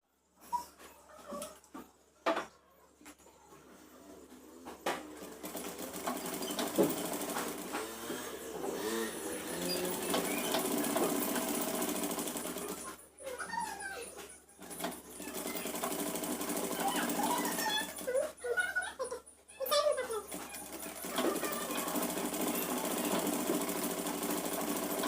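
A sewing machine runs close by, stitching the folded sleeve hem of a Punjabi salwar dress with a steady mechanical whir that stops briefly a few times and then starts again.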